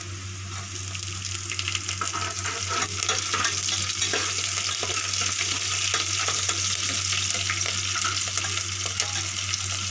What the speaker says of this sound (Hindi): देखिए मैं इसमें हरी मिर्च डाल रही हूँ कुकर के अंदर।